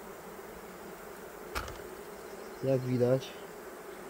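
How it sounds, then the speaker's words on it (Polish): Honeybees hum in an opened hive, a low steady buzz with a louder swell near the end, while someone briefly speaks. "I jest tam dość sporo pszczół."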